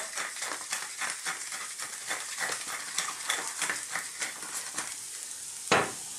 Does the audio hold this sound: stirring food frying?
yes